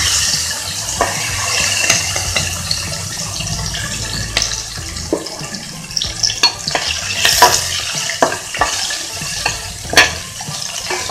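Boiled chickpeas frying in a pan, with a steady sizzle under repeated scraping and stirring clatter that grows busier toward the end; no voices.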